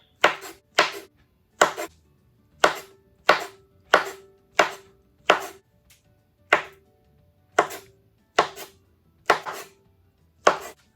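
Bananas sliced with a knife on a cutting board, a series of about fifteen crisp, close knocks at an uneven pace with short silent gaps between, no talk.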